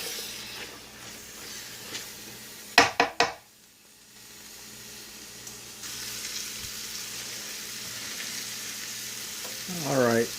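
Collard greens with onions, olive oil and butter sizzle steadily in a pan, with a few sharp knocks of a utensil early on and the frying hiss swelling louder later.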